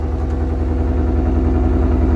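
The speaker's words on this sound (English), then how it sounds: "this does have the Coyote engine. Let's go ahead and hit the remote start." A 2025 Ford Tremor with the Coyote engine idles after a remote start, its exhaust giving a steady, loud, low rumble with a regular pulsing throb throughout.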